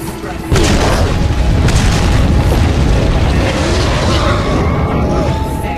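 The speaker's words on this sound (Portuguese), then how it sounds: "Joga umas granadas." Grenade explosions in Resident Evil 4 erupt as one sudden loud boom that settles into a sustained roaring rumble of blast and debris, dense and near, with no pause after the first hit.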